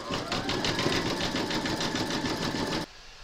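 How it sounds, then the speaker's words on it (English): An embroidery sewing machine zigzag stitching an appliqué flamingo, a fast steady mechanical whirr with a regular pulsing beat, close and loud, stopping abruptly near the end. "Pop your hoop back into your machine and stitch round number 5, and that's going to zigzag over the top here and join the two pieces together."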